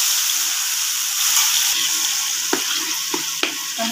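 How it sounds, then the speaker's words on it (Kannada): Coriander paste frying in a pan with a loud continuous sizzle, punctuated near the end by a few sharp spoon taps and stirring scrapes against the pan. "ಹಸಿ ವಾಸನೆ ಹೋಗೋದು ಚೆನ್ನಾಗಿ ಫ್ರೈ ಮಾಡ್ಕೋಬೇಕು"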